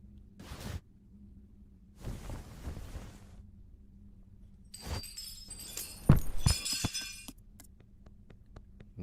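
Glass breaking in an animated horror short, a few soft knocks and shuffles before a bright crash with scattered tinkling shards and clinks, fairly close and alone without talk.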